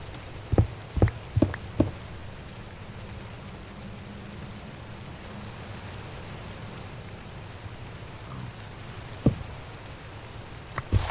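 Steady rain in Minecraft hisses evenly throughout, broken by a few sharp knocks near the start and again near the end.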